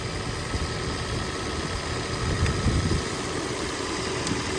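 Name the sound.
car electric AC compressor running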